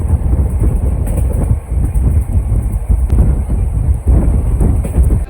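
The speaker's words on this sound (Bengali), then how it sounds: "এখন এমন টান ধরেছে মোটামুটি 105-10 এরকম স্পিডে চলছে ট্রেন" Heard from on board the Maa Tara Express running at about 105 km/h, a loud continuous rumble with rhythmic wheel clatter and wind roar, without speech.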